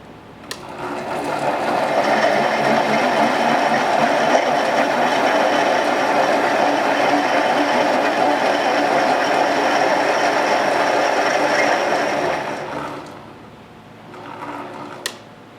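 A metal lathe takes its first test cut with the carriage locked, giving a steady mechanical whir and a faint chatter for about twelve seconds before it winds down. A sharp click comes near the end.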